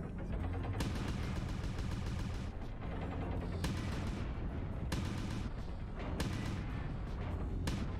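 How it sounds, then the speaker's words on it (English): Machine guns in the MechWarrior Online video game fire in a dense continuous rattle at a mech's arm, loud and close, with brief gaps between sustained bursts. "we can do this with all the machine guns. Let's just shoot the arm right here."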